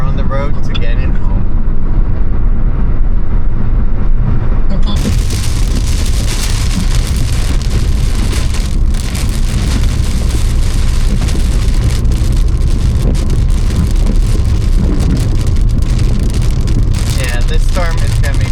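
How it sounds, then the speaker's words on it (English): Heavy storm rain pounds a moving car on a Florida road, a loud, continuous drumming wash on the roof and glass with road noise underneath, surging louder after the first few seconds. "this storm is gonna be pretty bad"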